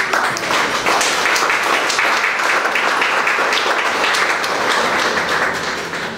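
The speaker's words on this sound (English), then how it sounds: "you deserve an astounding round of applause for that" An audience at a fine arts fair in Barbados breaks into sustained, loud applause, a steady wash of clapping that holds evenly and tapers slightly at the end.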